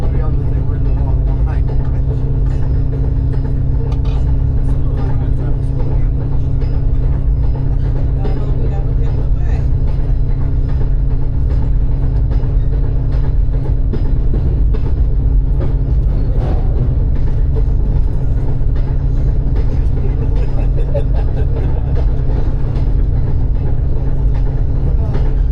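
Steady low rumble and rattle of riding aboard a steam excursion train in fall, a continuous dense roar with faint clanks throughout and no clear breaks.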